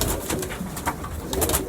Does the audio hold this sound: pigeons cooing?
yes